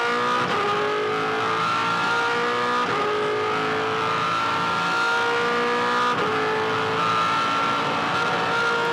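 A V8 Supercar race car on a 2007 championship circuit in Tasmania accelerates hard out of first gear from a slow corner, its loud engine note climbing through several quick upshifts, steady and close throughout.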